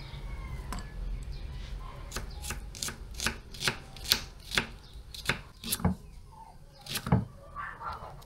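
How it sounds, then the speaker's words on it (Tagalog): Onion, ginger, tomato and chili are chopped on a large cutting board, a run of sharp knife knocks in uneven rhythm, close and fairly clear. "Umpisa na po tayo maghiwa ng mga rekado. Sibuyas, luya,"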